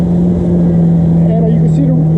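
Kawasaki FX Cruiser jet ski engine runs loud and steady on water, a constant droning hum close by with a slight pitch wobble near the end.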